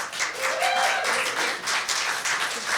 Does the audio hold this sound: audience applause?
yes